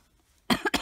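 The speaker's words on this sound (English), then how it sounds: "cough, excuse me." A single close adult cough, two or three sharp bursts in quick succession after a moment of quiet, heard while someone is crocheting a bookworm bookmark.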